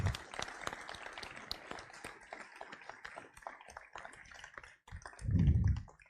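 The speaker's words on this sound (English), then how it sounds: "Can we please give them a round of applause?" A sparse audience at a school sports awards event claps for students and coaches, scattered and fairly quiet, trailing off near the end, followed by a brief low rumble or thump.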